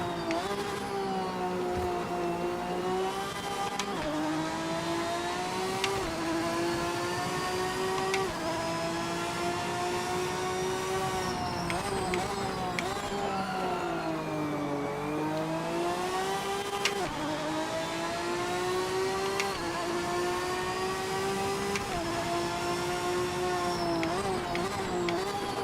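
Lamborghini race car engine in the Project Motor Racing video game, a steady loud howl that rises and falls through gear changes and throttle lifts, running continuously and up close through the whole stretch.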